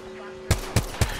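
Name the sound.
gunfire in the video game Apex Legends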